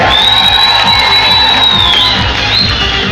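Loud, dense crowd noise from an audience at a kettlebell juggling show in Kirovohrad, with a sustained high whistle running through it for about three seconds.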